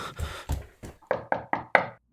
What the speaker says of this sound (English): Did you just knock on my door?